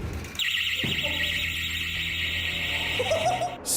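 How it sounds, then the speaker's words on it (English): A shrill, continuous electronic alarm blares suddenly after a door is yanked open in a reportedly haunted building, holding steady and loud for several seconds with a faint higher tone creeping in near the end. "things get real when they set an alarm off after yanking open one particular door"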